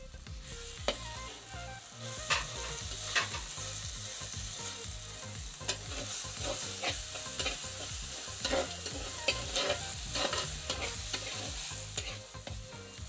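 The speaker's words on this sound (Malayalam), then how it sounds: "ഇനി അതിലേക്ക് നമുക്ക് വേണ്ടത് 2 സ്പൂൺ ഇഞ്ചിയും വെളുത്തുള്ളിയും കൂടെ ചതച്ചത്, ഒരു തണ്ട് കറിവേപ്പില, 4 പച്ചമുളക്, ഇതും കൂടെ നമുക്ക് ചേർത്ത് കൊടുക്കാം." Onions sizzle and fry with crushed ginger, garlic, curry leaves and green chillies for a Kerala-style mutton curry, a steady close hiss broken by repeated scraping stirs of a spoon against the pan, with no talk.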